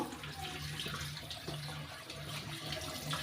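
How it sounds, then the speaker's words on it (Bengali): Tilapia fish being rinsed under a steadily running tap, a continuous close splashing gush of water that stays even and unbroken from start to finish, with no talking. "মাছগুলো আমি সুন্দর করে এখান থেকে ধুয়ে নিব"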